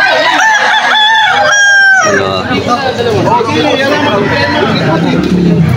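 A stag gamecock crows loudly and near in a busy Malolos, Bulacan cockfighting market, one long drawn-out call over a steady crowd babble of people talking and clucking fowl.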